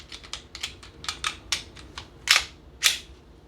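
Metallic clicks and scrapes as the slide of a Taurus TX22 pistol is slid back onto the frame during reassembly, a quick run of small close clicks ending in two sharper, louder snaps.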